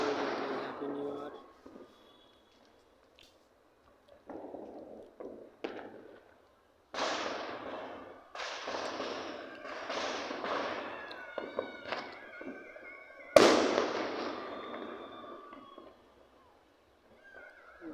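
New Year fireworks bursting in a series of sharp cracks and pops with crackling tails, some near and loud, others fainter, separated by short gaps, with a final big bang near the end.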